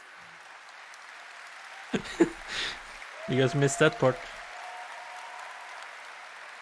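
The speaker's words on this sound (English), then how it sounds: "Applause." Audience applause at a Gamescom 2023 show, a steady crowd clapping bed running throughout with someone talking briefly over it in the middle.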